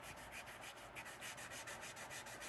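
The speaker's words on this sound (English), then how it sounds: "we'll use our flat part of our block. Give it a nice little sand." Flat sanding block rubbed across a leather trifold wallet edge, a faint, steady rhythmic scratching of quick repeated strokes with no one talking.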